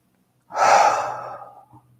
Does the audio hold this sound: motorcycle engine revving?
no